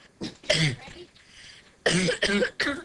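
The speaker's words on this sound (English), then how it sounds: "Cough sounds horrible" A person coughs several times in harsh, chesty bursts, close by, with a short pause between two clusters of coughs.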